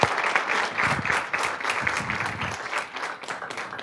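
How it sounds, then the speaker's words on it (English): A lecture audience gives a warm round of applause, many hands clapping in a dense, steady burst close by that slowly thins toward the end. "So let's give a warm round of applause for Dr. Murillo."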